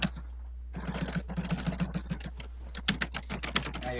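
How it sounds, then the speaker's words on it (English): A computer keyboard sits close to the microphone and clatters in a fast, dense run of keystrokes, loud and near, with a steady low hum underneath. "Your keyboard's quite close to your mic"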